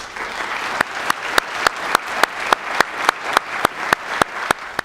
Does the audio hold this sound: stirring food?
no